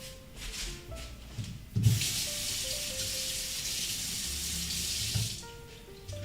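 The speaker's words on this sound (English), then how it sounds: "Always wash your knives after sharpening them." A kitchen knife, just sharpened, is rinsed under a running tap, giving a steady splashing water rush with a few thin metallic clinks and shifts as the blade moves in the stream.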